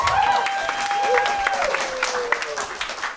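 An audience claps in a hall at a spring school concert, giving a steady, fairly loud wash of applause while a voice speaks over it.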